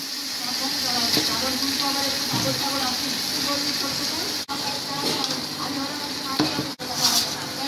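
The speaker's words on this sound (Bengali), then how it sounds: "দাও, মাংসটা দিয়ে সুন্দর করে কষাও।" Broiler chicken meat sautés in a pan, giving a loud, continuous sizzle with occasional stirring scrapes throughout.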